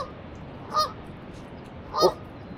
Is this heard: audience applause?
no